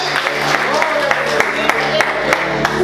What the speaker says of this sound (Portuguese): Quantos podem aplaudir o Senhor essa noite?